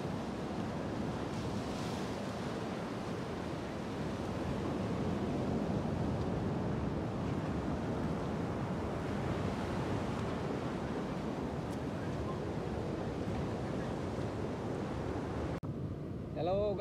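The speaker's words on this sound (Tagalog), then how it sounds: "Dito tayo ngayon sa tabi ng dagat." Sea waves wash continuously along the shore at a bathing spot, a broad low rumble swelling and easing with wind buffeting the microphone, and a brief faint interruption near the end.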